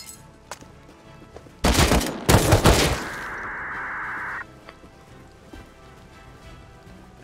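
Gunfire in the survival game Rust as a scientist NPC shoots at the player: a loud burst of rapid shots followed by a sustained tone, with faint sounds before and after.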